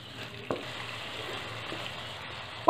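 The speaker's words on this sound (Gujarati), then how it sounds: "તેને હલાવીને સરસ મિક્સ કરી લેશું." Spiny gourd (kankoda) curry cooks in a pan with a soft, steady sizzle, broken by a brief stirring scrape near the start and a louder clatter of the spoon at the very end.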